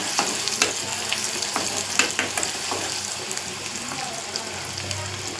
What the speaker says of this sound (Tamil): இப்போது வெங்காயம் எடுத்து வச்சுருக்கேன், வெங்காயத்தை போட்டுக்கலாம். ஹை ஃப்ளேமில் தான் வச்சுருக்கேன்.